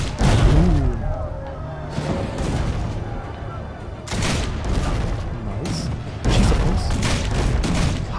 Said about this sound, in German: Ah, wir müssen mit den Kanonen einfach drauf schießen.